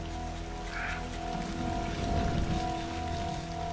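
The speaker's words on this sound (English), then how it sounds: "the rain's getting harder and harder" Heavy rain pours down in the Cambodian jungle, a dense, steady hiss that swells louder midway, with a low droning hum running beneath it.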